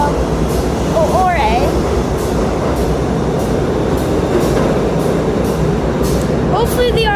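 A New York City subway train rumbles steadily along, its loud continuous roar broken by rhythmic clicks over rail joints and high squeals of wheels, while a person speaks briefly over the noise.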